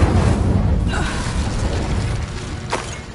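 The Incendio fire spell in Hogwarts Legacy fires as a loud, roaring, rumbling blast that fills the whole moment, with a sharp crackling flare near the end.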